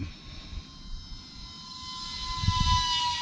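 An E-Flite UMX MiG-15 radio-controlled jet with a 28mm electric ducted fan flies outdoors, giving a thin, steady whine that grows louder over a few seconds under wind rumble.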